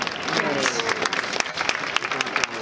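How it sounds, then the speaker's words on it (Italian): Sustained audience applause at a summer festival dance-school show in Mirabello, Italy, many hands clapping, a few sharper claps standing out, and some talking mixed underneath. "ancora un altro applauso."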